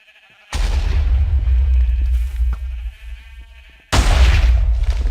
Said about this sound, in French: Mouton rouge il explose, tout simplement.